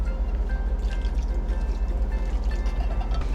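Two cans of beef consomme poured over mushrooms and rice in a casserole dish, a steady liquid pour with soft splashing and dripping throughout, close and fairly loud, no talking.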